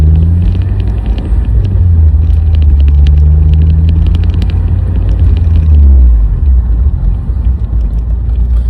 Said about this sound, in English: these exhausts are very mellow under normal driving